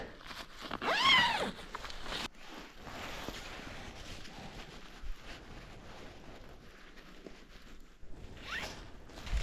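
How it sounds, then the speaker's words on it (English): A tent zipper is pulled closed in one quick, close rasp, followed by soft rustling and shuffling movement in a quiet outdoor winter campsite. "Let me zip everything up just in case it does get a little bit wet."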